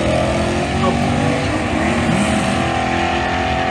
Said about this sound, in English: Just giving it a few dry hops. No big burnout.